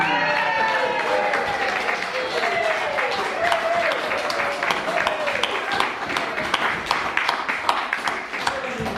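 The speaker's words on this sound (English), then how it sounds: "Give her a round of applause" Applause from a small audience at a stroke club gathering follows a song, with scattered clapping continuing under a person talking.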